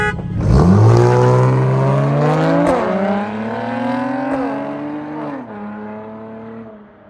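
A Honda Accord with a Hellcat engine swap races a Mercedes C43 AMG. A loud engine launches and climbs through the revs, with distinct gear shifts stepping the pitch back down several times as it pulls hard and close.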